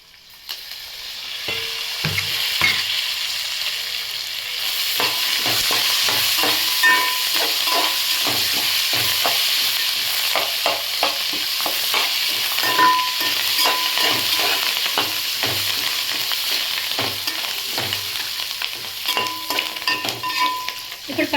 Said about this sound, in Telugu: సో ఇప్పుడు ఇవన్నీ ఉడుకుతున్నాయి కదా ఇప్పుడు పచ్చిమిర్చి వేసుకుందాం కరివేపాకు వేసుకుందాం